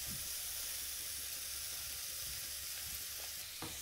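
Tomato and turmeric masala being stirred in a hot pan for potato pithe, a soft continuous sizzle with faint scrapes of the spoon near the end.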